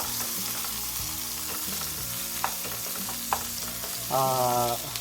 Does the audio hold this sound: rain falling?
no